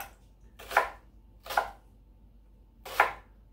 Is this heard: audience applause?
no